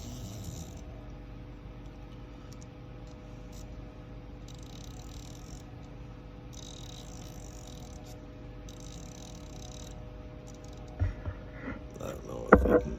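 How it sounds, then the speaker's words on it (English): A CNC spindle driven through the A axis runs with a steady, faint mechanical whir and whine, holding an even tone before a few louder clicks and knocks at the end. "I'm using my A axis to control my spindle"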